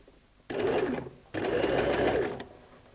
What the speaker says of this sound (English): now we're going to go and sew a zigzag stitch